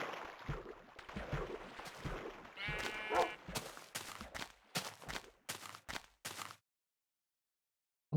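Sheep bleating in a video game, several short bleats in quick succession over background game sounds, ending abruptly in silence.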